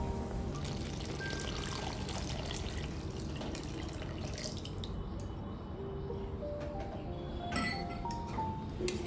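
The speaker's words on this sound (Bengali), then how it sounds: "এবার বেটে রাখা নারকেলের দুধটা দেবো।" Coconut milk is poured into a pan of spiced fish curry masala, a steady liquid pour and trickle with occasional drips, close and moderately loud throughout.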